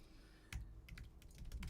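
Typing on a computer keyboard, a quick run of close, crisp key clicks in irregular rhythm after a brief pause, with no talking.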